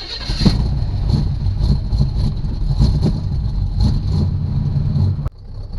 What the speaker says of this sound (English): Let's fire this thing up.